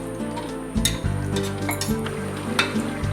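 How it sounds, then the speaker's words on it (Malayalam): Beef curry bubbles in thin second coconut milk in a Kerala-style pot, a steady close simmering sizzle broken by several sharp clinks and scrapes of a spoon against the vessel, with no talking. "2-ാം പാലിൽ കറി തിളച്ചിട്ടുണ്ട്"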